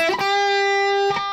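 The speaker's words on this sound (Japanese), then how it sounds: "その1、とにかく音痴なチョーキング。" An electric guitar string is bent to a pitch that sits off-key, picked with a twangy attack and held as one bright, sustained note before another pluck near the end, loud and close with no talking.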